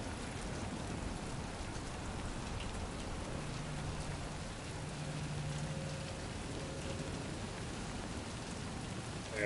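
Steady rainfall patters throughout in Death Stranding 2, a constant even hiss of drops with a faint low hum underneath, no voices.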